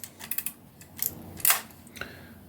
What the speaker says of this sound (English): It's got a cloth shutter on this camera